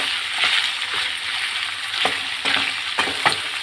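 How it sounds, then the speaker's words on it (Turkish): Chopped onions and red pepper sizzle steadily in a hot pan, with occasional scraping stirs of a utensil cutting through the frying noise. "İyi güzelce tekrar kavuracağım."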